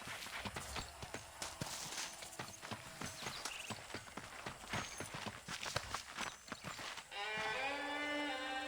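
Horse hooves clip-clopping at a steady riding pace in the video game Red Dead Redemption, a brisk rhythmic run of close hoof strikes that gives way to a sustained musical tone at the end.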